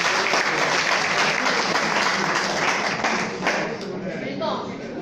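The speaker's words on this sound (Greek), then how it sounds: "Να χειροκροτήσουμε πριν προχωρήσω και τους γονείς αυτών των παιδιών." An audience at an annual foundation ceremony in Piana, Greece, honoring students and their parents, bursts into loud, sustained applause that fades slightly toward the end, with voices audible beneath the clapping.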